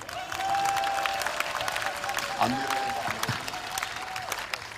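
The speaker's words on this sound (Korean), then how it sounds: "자, 박수로 응원해 주시기 바랍니다." Audience applause at an outdoor Korean political rally and trekking event, a steady spread of clapping from a crowd that runs the whole stretch, with a sustained tone and some voices mixed in.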